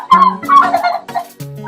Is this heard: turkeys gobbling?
yes